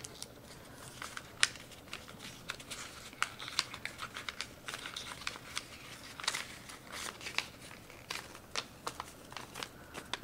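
Paper being folded and creased into a Millennium Falcon origami model, with soft crinkles and sharp little snaps scattered irregularly across a quiet background.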